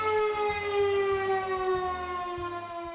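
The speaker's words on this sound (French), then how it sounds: "Si vous entendez une sirène d'alerte, dirigez-vous sans tarder vers le point de rassemblement le plus proche." A civil defense alert siren holds one steady, loud wailing tone with rich harmonics, sounding continuously and alone.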